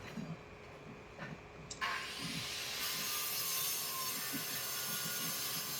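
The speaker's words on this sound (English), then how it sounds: "Angle grinder out, and then just trim that tile down." An angle grinder cuts down a roof tile: faint scraping at first, then the disc bites in and a loud, steady high whine with grinding noise carries on to the end.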